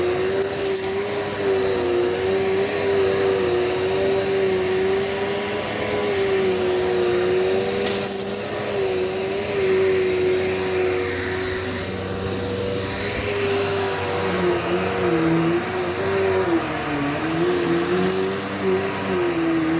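Dirt Devil multi-surface vacuum cleaner running continuously, a loud steady motor whine with slight pitch wobbles as it is pushed around, close up with no voices throughout.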